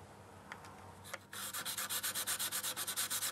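Rhythmic back-and-forth sanding on a carbon fibre glider wing area, a few scattered strokes then a steady run of quick, even scrubbing passes, close and alone.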